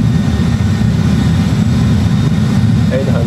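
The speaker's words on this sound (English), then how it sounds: "So reverse thrust." Loud, steady roar of an airliner's engines in reverse thrust after touching down at Madeira Airport, a dense low rumble sustained throughout without a break, with cockpit talk faintly under it.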